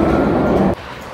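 Loud rumbling noise of a moving Chicago train heard from inside, close and continuous, which abruptly drops to a quieter hum near the end.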